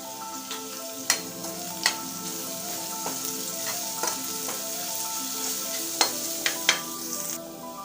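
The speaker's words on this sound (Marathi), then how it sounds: "आपल्याला लसूण थोडासा जारसड असा वाटायचा आहे आणि हा तेलात परतून घ्यायचा आहे सोनेरी रंगाचा होईपर्यंत" Coarsely crushed garlic frying in oil until golden, a soft steady sizzle close by, punctuated by several sharp clicks and scrapes of a spoon against the pan, no voices.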